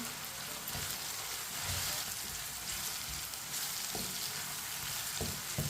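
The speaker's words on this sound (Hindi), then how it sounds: "अब इसे 3 मिनट के लिए ऐसे ही पका लेंगे चम्मच चलाते हुए।" Tomatoes cooking in a pan over medium heat give a steady sizzle and frying crackle, with occasional soft scrapes and knocks from a spoon stirring them; no voices.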